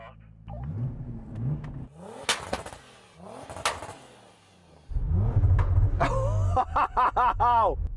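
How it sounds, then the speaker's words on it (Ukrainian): A new Nissan Patrol SUV engine revs hard in bursts, roaring up and dropping back, with loud crackling pops and a voice talking briefly in between. "давай послухаємо, який звук у цього нового патролу"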